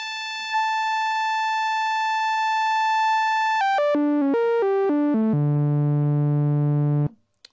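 A Korg MS-20 FS analog synthesizer holds a steady bright tone through a keyboard-tracking band pass filter, then steps through a quick run of falling and rising notes before settling on a low sustained pitch that cuts off abruptly.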